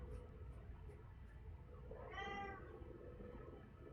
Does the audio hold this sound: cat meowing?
yes